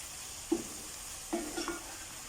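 Chicken being stirred in a pan with jeera powder, chili powder, turmeric and salt, giving a few brief scraping stirs over a faint, steady sizzle.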